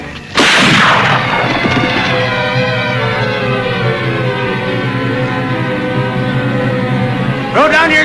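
A gunshot rings out from a Mountie-era Yukon TV adventure, one loud sharp crack at the start that gives way to a sustained, swelling dramatic score, with another sharp burst near the end.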